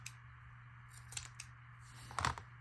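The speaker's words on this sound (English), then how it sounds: "And then this just needs to be trimmed a tiny bit." Scissors trim the edge of lace paper ephemera in a quiet room, a few soft close snips spaced apart, the last cut slightly louder, with no talking.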